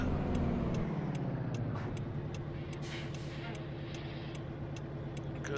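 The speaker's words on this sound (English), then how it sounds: "Click our blinker on." The turn signal in a Peterbilt 359 truck in the American Truck Simulator game ticks in an even, steady rhythm over a low engine drone, with a voice briefly audible.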